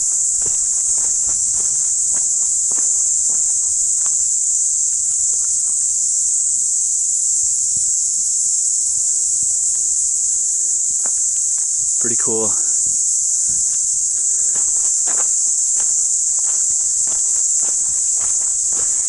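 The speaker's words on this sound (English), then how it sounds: "Just wanted you guys to hear the sound of these cicadas." A steady high-pitched drone of cicadas fills the air throughout, with footsteps crunching along a Pacific Crest Trail path and a brief voice speaking partway through.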